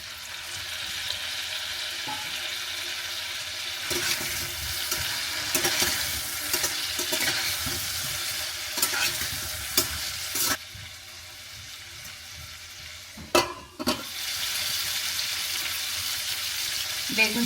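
Eggplant sizzles and fries steadily in a pan for a fish curry, with intermittent scraping and clatter as it is stirred, and occasional faint voices in the background.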